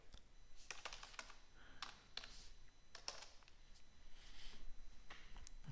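Keys clatter on a computer keyboard in quick, irregular bursts of taps with short pauses between, close and fairly quiet, with no voice over them.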